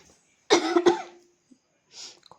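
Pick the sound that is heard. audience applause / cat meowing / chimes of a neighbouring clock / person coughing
person coughing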